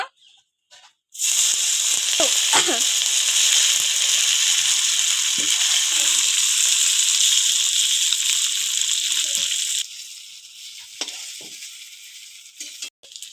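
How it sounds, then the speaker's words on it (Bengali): Paneer pieces sizzle loudly in hot oil in a wok, a steady bright frying hiss that runs for several seconds, then drops to a quieter sizzle with a few faint clinks. "গরম হয়ে গেছে এখন এক এক করে পনির দিয়ে দিব"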